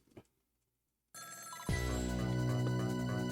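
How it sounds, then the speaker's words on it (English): A telephone rings loudly after a brief silence, a sustained electronic trill that starts suddenly and continues steadily. "Every time that phone rings, it's bad news."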